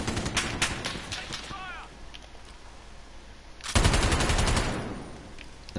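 Bursts of M91 machine-gun fire in Modern Warfare, rapid automatic rattles near the start, then a long loud sustained volley after a short lull, with a voice talking over part of it.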